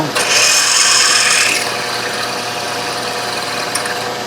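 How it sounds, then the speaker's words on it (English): A harsh, high-pitched grinding whine from a drill cutting holes in a metal bracket, loud for over a second, then a lower steady mechanical hum. "That's the end of drilling holes in this bracket."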